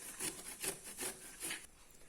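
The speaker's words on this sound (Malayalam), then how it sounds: "ഒരു വഴുതനങ്ങ എടുത്ത് നമുക്ക് ഗ്രേറ്റ് ചെയ്യണം" A brinjal is grated by hand, producing four or five soft, rhythmic rasping strokes, close and fairly quiet, before the scraping stops.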